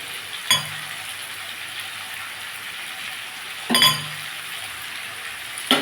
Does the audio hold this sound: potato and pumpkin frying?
yes